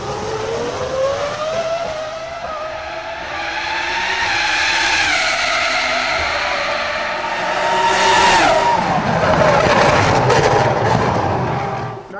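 A 2004 Ferrari Formula 1 race car screams around a circuit, its high-revving engine growing louder as it approaches, peaking in a sharp pass-by, then shifting and fading as it pulls away.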